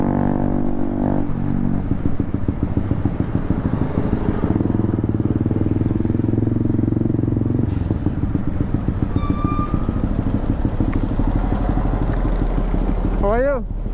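A Zontes motorcycle engine runs steadily and loudly close by, with a continuous rumbling drone and some shifts in pitch as it revs; a voice is heard briefly near the end.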